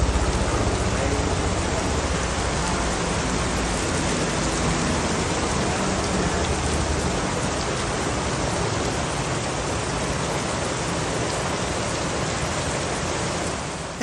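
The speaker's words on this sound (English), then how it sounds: "Here we are in the rain." Steady, dense rain hisses without a break, loud and close, in an outdoor spot near fountains and a pool.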